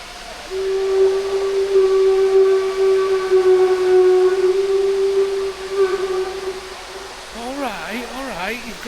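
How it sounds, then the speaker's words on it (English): A loud, sustained horn blares steadily for about five seconds beside Lake Lucerne near the boat-trip piers in Lucerne, Switzerland, then fades as a voice begins speaking. "Alright, you've got a horn."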